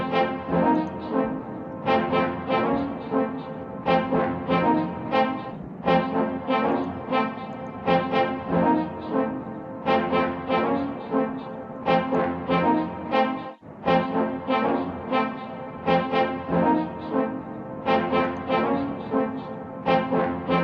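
A Celestial Hornacle monster from My Singing Monsters plays a looping horn-like tune in regular, evenly spaced phrases. The tune is steady and moderately loud, with no voices.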